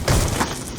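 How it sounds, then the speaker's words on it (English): A short low rumbling burst with gritty, earthy noise as a denizen bursts out of the ground in Black Ops 2 Zombies, a brief muffled thud and scrape, close and alone. "that's the sound of the denizen coming out of the ground to rip your face off"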